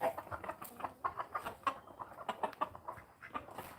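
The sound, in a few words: Buff Orpington chicken clucking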